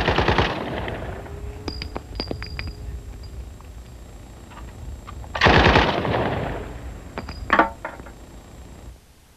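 A full-auto machine gun fitted with a DTA muzzle brake fires two loud close bursts of rapid rounds, each followed by clinking brass and a lingering echo in between.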